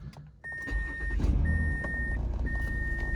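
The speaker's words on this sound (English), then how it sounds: "Start the car up." A Mazda 6 with a fault code P0431 cranks and catches, settling into a steady rumbling idle close by, while a thin electronic chime repeats at intervals over the engine.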